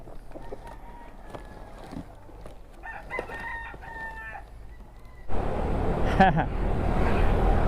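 A rooster crows and live chickens cluck nearby in a Lalamove pickup truck, with people talking over them; halfway through, a loud engine-like rumble sets in and continues beneath the birds.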